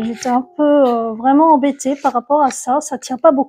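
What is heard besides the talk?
No distinct noise like a dog, phone or traffic.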